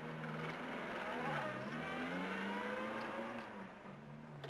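A motorcycle engine fires up and revs, its pitch rising and falling as it accelerates away, moderately close and without any talk, in the Elvis Presley film Roustabout.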